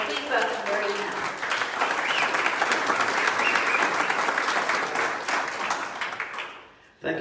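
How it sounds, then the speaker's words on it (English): Audience applauding at a Rotary club meeting, a sustained, fairly loud wash of clapping from a seated group lasting several seconds before dropping off abruptly, with some voices mixed in underneath. "let's give him a round of applause for that and for coming today."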